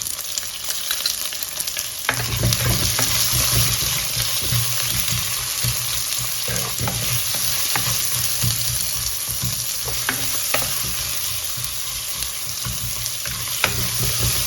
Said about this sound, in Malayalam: ലേശം ഉപ്പിട്ടിട്ട് അതൊന്ന് വഴറ്റാൻ വയ്ക്കുക.